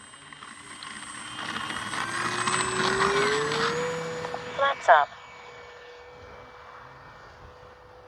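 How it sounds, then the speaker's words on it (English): A Kavan Bristell B-23 RC model airplane flying overhead, a thin electric motor whine that grows and then fades, with a person speaking briefly partway through. "This is one sweet flying plane right here."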